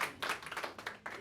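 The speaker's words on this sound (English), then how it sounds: "Yes, clap, clap, clap." A small room of young Democrats claps in brief uneven bursts, close and fairly loud, with a faint voice in the background.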